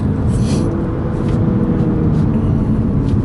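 BMW M2 with a manual gearbox pulling hard along a back road, its engine droning steadily and loud from inside the cabin with a dense low rumble throughout.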